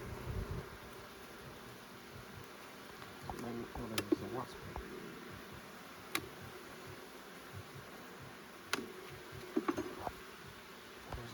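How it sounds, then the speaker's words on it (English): Honey bees fill an open hive with a steady low hum during a beekeeper's inspection of a heavy honey super, punctuated by occasional clicks and knocks of frames, with speech heard at times. "There's lots of bees in here."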